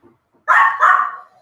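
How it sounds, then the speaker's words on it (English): A Chihuahua gives two quick, sharp yapping barks close by, the second trailing off slightly, with quiet surroundings and no talking. "There's that dog I was talking about, the Chihuahua who has small man syndrome"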